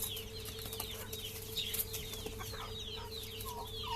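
Chickens cluck and chatter softly in a busy farmyard while fighting over a caught mouse, with a steady low hum underneath and no talking.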